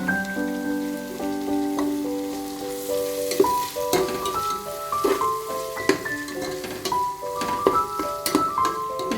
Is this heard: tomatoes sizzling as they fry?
yes